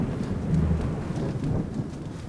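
Low, rumbling thunder rolls from a weather mod in the video game Fallout 4, with rain hissing steadily over it in a continuous stormy wash at moderate loudness.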